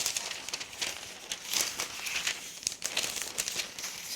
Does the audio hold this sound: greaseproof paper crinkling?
yes